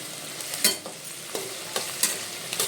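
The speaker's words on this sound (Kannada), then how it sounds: "ಸ್ವಲ್ಪ ಫುಲ್ಲು ಸ್ಮ್ಯಾಶ್ ಆಗೋ ತನಕ ಫ್ರೈ ಮಾಡಬೇಕು" Tomatoes and onions frying together in a pan for chicken biryani, a spoon scraping and stirring in a few close, irregular strokes over a soft, steady sizzle, with no talking.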